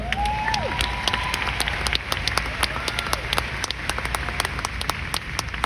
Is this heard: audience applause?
yes